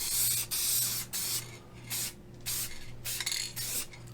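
Lacquer finish sprayed onto a carved maple door sign in short hissing bursts, about eight spurts with brief pauses between, close and steady, alone with a faint low hum underneath.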